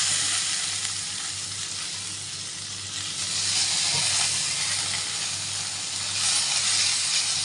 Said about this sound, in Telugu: కరివేపాకు తిరిగి వేసేసి వేపాలి